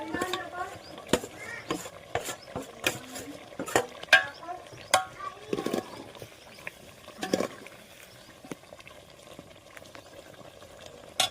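Close, irregular clinks and scrapes of a spoon stirring masala with eggplants in a pan, with a low sizzle underneath that fades toward the end.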